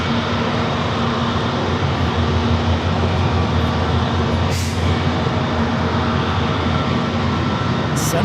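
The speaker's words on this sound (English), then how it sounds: "Let's fly heading to JFK in this Delta A321neo." Steady loud jet engine roar from a Delta Airbus A321neo airliner at San Diego airport, a continuous broadband rumble with a low hum, sustained throughout and fairly close.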